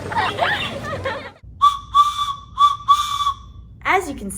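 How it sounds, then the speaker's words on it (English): Train whistle sounding in several steady, bright blasts with short gaps between them, loud and close, following a stretch of singing at a children's church Bible school program. "train whistles are big and bold because they have important messages to communicate."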